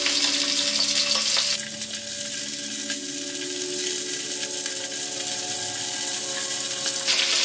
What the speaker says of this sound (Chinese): 鱼头下锅啊。